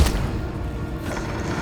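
Bombarda, the blasting spell in the video game Hogwarts Legacy, goes off with a heavy, booming thud at the start, then a rumbling, crackling tail that lingers for over a second.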